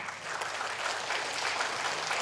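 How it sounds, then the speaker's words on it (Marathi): Audience applause at a responsible tourism awards ceremony in Maharashtra, a steady wash of many hands clapping, moderately loud and even throughout, with no voices over it. "त्याच्यासाठी जोरदार टाळ्या वाजवा"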